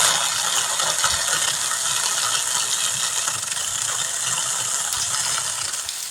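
A mini electric chainsaw grinds and rattles as it bogs down, stuck in a 2-inch cedar branch while clearing trails, a dense, steady mechanical buzz close up for about six seconds.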